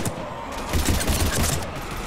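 Dense, continuous gunfire from a firefight in the Mass Effect 3 video game, with overlapping rapid shots and booming bursts that stay loud and steady for about two seconds, with no clear talk.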